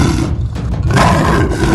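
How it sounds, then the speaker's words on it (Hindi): Lion Shera lets out a loud, sustained roar in a Hindi animated folk tale, a rough, growling blast that rises and holds for nearly two seconds with no talk over it. "तभी वहाँ शेरा का दहाड़ने की आवाज आती है"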